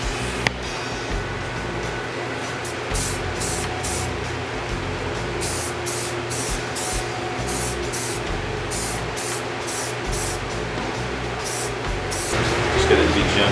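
Rust-Oleum metallic chrome spray paint hissing from an aerosol can in a steady run of short, evenly spaced bursts, close by over a constant background hum.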